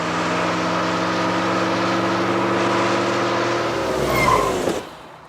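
A car overtakes a bus and skids to a stop: a loud sustained engine drone that swells, then breaks off into a short scraping skid before fading to quiet.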